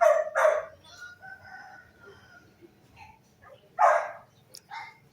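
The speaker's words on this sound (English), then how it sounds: "You got the roosters crowing, the dogs barking." A rooster crows in a quick burst in the Philippines, then again a few seconds later, with a dog barking faintly in the background.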